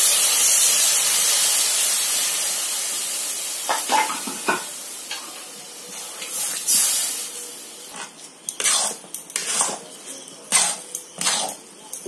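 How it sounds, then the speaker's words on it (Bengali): A cup of water hits a hot pan for pineapple kesari halwa and sets off a loud burst of hissing steam that slowly fades, followed by close scraping stirring strokes. "এতে দিয়ে দেব মেজারমেন্ট কাপে এক কাপ জল"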